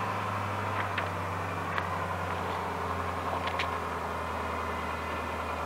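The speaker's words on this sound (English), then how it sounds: "Here comes a truck, so it's going to make a little bit of noise." A truck goes by at a distance as a steady low engine drone and road rumble, with a few faint higher clicks and no talking.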